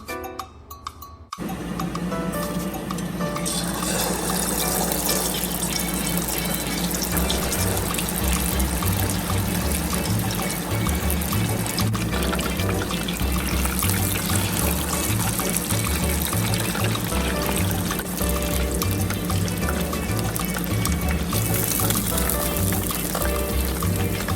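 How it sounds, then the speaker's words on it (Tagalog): Chicken pieces deep frying in hot cooking oil over medium heat for Korean soy garlic fried chicken, a loud continuous sizzle and crackle that starts abruptly after a short quiet moment and stays steady throughout, with no one speaking. "so let's start frying"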